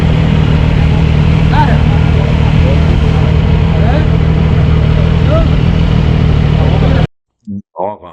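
A Moto2 racing motorcycle engine drones loud and close for about seven seconds with a steady idling pitch and slight revving wobble, then cuts abruptly to silence broken by short bursts of voice.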